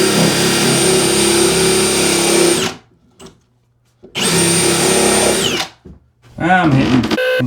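A power drill bores a hole during a bathroom remodel and snags on hidden screws, running loud and close in two long high whining bursts separated by silence, then a short stuttering third burst with the pitch wavering as the bit catches.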